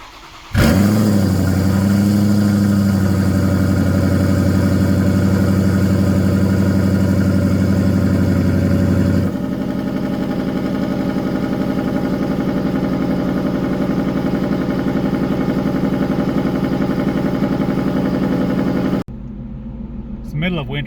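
A 2019 Ford Mustang twin turbo with a full exhaust upgrade using OEM active valves fires up and settles into a loud, deep idle that drops slightly in volume before cutting off.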